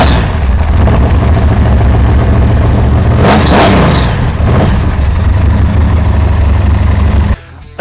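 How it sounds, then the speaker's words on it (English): A 1946 Dodge pickup truck engine at a truck show roars loudly up close, rumbling steadily then blipping the throttle in a couple of sharp revs before cutting off near the end. "You brought this 46 Dodge pickup truck to the show, and it was quite the opposite of quiet."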